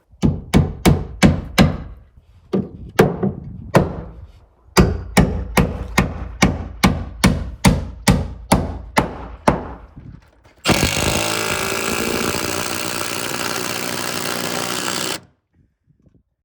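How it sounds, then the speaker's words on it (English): Timber screws are driven into a wooden ledger board. A run of sharp, evenly spaced hammering thumps comes from the driver, then a continuous loud mechanical whir lasts several seconds before cutting off. "I'm going to put these timber screws in, and these are equivalent to 3/8" lag bolts"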